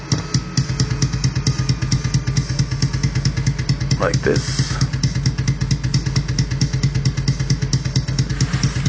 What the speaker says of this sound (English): here's the kick, the sum of all the kick drum tracks